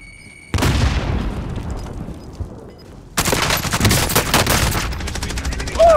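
Frag grenade blast and gunfire in the video game Warzone: a sudden loud boom with a long decaying tail, then a dense burst of rapid automatic gunfire that continues to the end.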